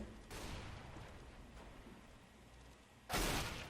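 Gunfire in the game CS:GO, with a couple of sharp, loud shots: one early burst, then a louder, close blast near the end, over a steady low background.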